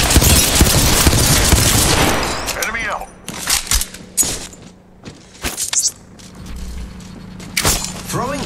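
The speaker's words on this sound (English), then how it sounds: "Getting shot at. Firing." Rapid gunfire bursts from the Apex Legends battle royale game, sharp cracks in clusters with pauses between volleys, loud and close, with a game voice announcing callouts at times.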